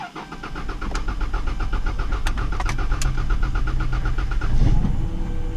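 A car engine with a failing check engine light runs with a steady, pulsing mechanical drone and a low rumble near the mic. Repeated clicks sound throughout, and it swells briefly near the end, though slow cranking is not clearly distinct.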